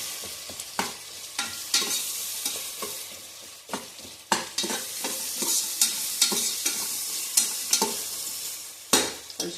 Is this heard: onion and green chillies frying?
yes